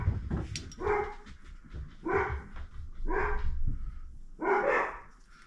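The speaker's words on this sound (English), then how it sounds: "Oh, dogs are going crazy." Several dogs bark excitedly in four or five rough bursts, fairly loud and close, with yips and whimpers mixed between the louder barks.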